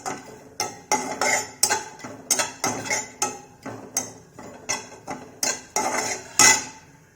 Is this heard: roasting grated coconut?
yes